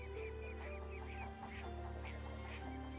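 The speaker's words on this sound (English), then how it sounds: "Ducks." Ducks quacking in a short, busy series of calls over a steady low background hum, moderately near with no talking.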